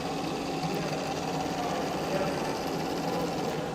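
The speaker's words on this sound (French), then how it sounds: "le monte-bombe va s'activer" Bomb elevator mechanism on a model of the Foch aircraft carrier running with a steady, fine mechanical whir and buzz, close and even, with no talking.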